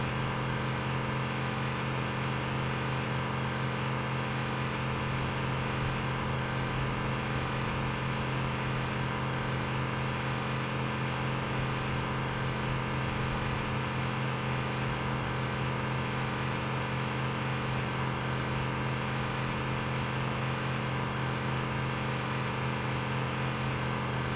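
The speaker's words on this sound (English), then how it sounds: "I'm lowering the sound of the engine because if it were at full volume this whole time, I would probably go insane" Warthog vehicle engine in Cursed Halo, a desert run, droning as a steady, continuous mid-pitched hum held at a constant low level throughout, with no talking over it.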